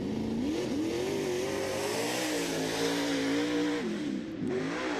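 Late model race car at speed on a qualifying lap at a memorial race, engine note loud and steady throughout, rising and falling slightly as it revs through the turn.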